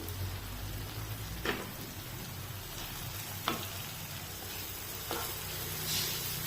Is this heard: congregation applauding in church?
no